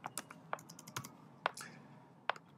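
Keystrokes on a computer keyboard entering a username and password for a blog login, a handful of sharp separate clicks with short irregular pauses, close by and fairly quiet, with no talk.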